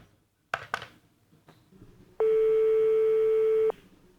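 A telephone call tone sounds as a single steady electronic beep lasting about a second and a half, loud and clean, after a few faint clicks and handling noises.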